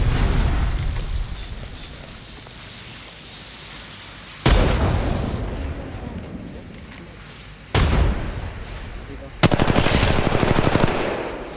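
Rapid automatic gunfire from Apex Legends Mobile breaks out in loud bursts over a steady game background, with sharp volleys arriving several seconds apart and the last one sustained.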